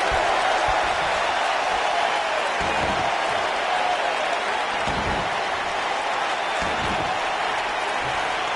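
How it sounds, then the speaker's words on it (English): Video game wrestling arena crowd roaring and cheering continuously, a dense, loud wash of noise with a few swells, no clear voices standing out. "I don't remember the last time I heard a more passionate crowd than the one we have here tonight."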